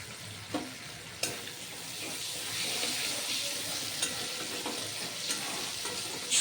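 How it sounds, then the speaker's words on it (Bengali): Black cumin seeds sizzle in a small amount of hot oil in a pan while water lily stems are being cooked, a steady close frying hiss broken by a few sharp crackles and pops. "এর মধ্যে দিয়ে দেব কালো জিরে ফোড়ন"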